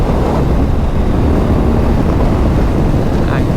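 A 2024 BMW R 12 nineT with a 1170cc boxer engine cruises along, its engine drone buried under heavy, constant wind roar at speed, with a rider's voice faintly present.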